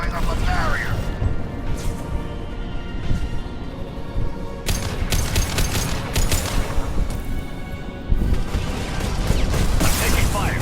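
Gunfire in the Mass Effect 2 video game, dense bursts and booming shots crackling throughout under steady mechanical combat noise, with a voice talking over the fight.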